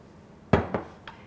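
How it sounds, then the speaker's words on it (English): Andouille sausage tumbles back into a skillet with a sharp metallic clatter, a loud first knock followed by a few lighter clinks of utensil against pan. "I'm returning the andouille sausage back to the skillet"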